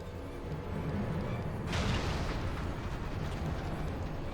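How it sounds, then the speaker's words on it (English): Airship cannons firing in Final Fantasy XIV, a heavy rumbling barrage that swells into a loud blast partway through, then continues as a dense roar, with no talk. "All cannons, return fire."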